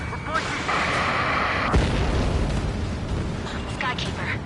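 A missile explosion in the video game Ace Combat 7: a sharp boom within continuous jet and combat noise, overlaid by radio voices.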